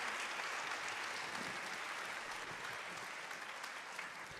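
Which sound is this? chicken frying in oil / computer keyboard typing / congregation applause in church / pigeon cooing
congregation applause in church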